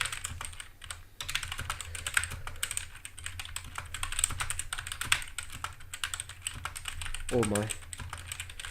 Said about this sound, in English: The O-rings makes the tactility less pronounced, so I don't think I like that too much for typing.